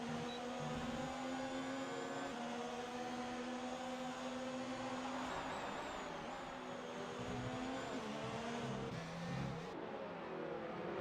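Formula 1 race cars on the Singapore circuit in an Xbox racing game, a continuous high-pitched engine whine with rising and falling revs as cars accelerate and shift, steady and fairly loud with no talk.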